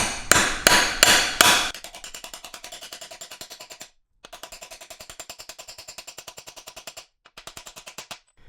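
Hammer tapping a part back into the bore of a BMW ZF five-speed manual transmission case: a few loud, heavy strikes, then long runs of rapid, light, evenly spaced metallic taps with brief pauses, close up and with no talking.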